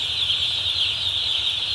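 Newly arrived chicken chicks give a steady, dense chorus of high peeping from a crowd of birds, close and constant for the short stretch.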